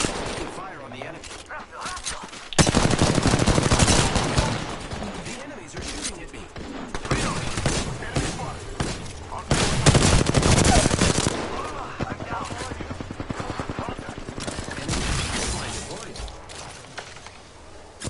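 Rapid bursts of gunfire from the video game Apex Legends, loud and sustained with repeated automatic volleys and heavy impacts, mixed with game sounds while a player talks over the action.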